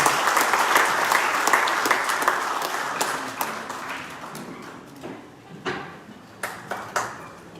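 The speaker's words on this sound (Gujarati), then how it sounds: "દરેકને તાળીઓના ગણગણથી વધાવી દેવા માટે" Audience applause at a COVID warrior award ceremony, a dense crowd of clapping that swells at first and then thins into scattered individual claps toward the end.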